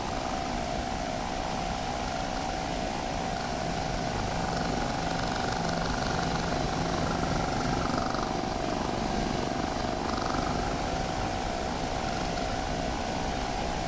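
A continuous Russian helicopter drone in the flight simulator DCS, with a steady rotor hum, fills the whole stretch, loud and unbroken, with no voices.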